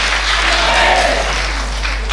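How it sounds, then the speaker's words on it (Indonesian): A church congregation cheers and applauds for God, a dense, loud wash of clapping and voices that stays steady throughout with no speech over it. "Sorak-sorai buat Tuhan."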